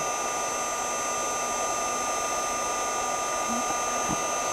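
A heat tool blows a constant, loud, steady whir while drying and heat embossing pigment ink, with a couple of faint clicks toward the end.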